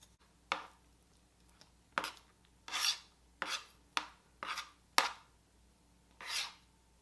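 A regular kitchen knife, not a bread knife, saws through bread in a home kitchen. About eight short, rasping strokes come at an uneven pace, close and fairly quiet.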